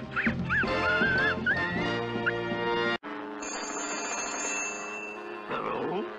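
A cartoon telephone rings in a zany animated scene, bright trilling bells over a busy orchestral score, then a sustained electronic ring tone after a brief break.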